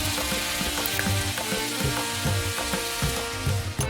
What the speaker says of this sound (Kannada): ಬಾಣಲೆಗೆ ಒಂದು ಸ್ವಲ್ಪ ಎಣ್ಣೆಯನ್ನು ಹಾಕಿಬಿಟ್ಟು ಸಾಸಿವೆ ಹಾಗೂ ಪಾಲಕ್ ಸೊಪ್ಪನ್ನು ಹಾಕಿಬಿಟ್ಟು